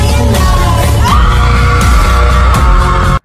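A loud, sustained scream holds for about three seconds at full strength over a busy backing, then cuts off abruptly.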